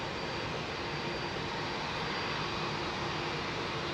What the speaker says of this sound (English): He gets to see the takeoff twice.